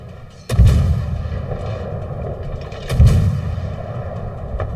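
Heavy naval guns fire in a World of Warships battle, two loud booming salvos about two and a half seconds apart, each with a deep rumbling tail over steady ship background noise.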